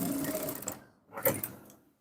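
A sewing machine stitches through trouser fabric for a high-waist women's trouser in two close, steady bursts of mechanical whirring with a short pause between them, and no talking.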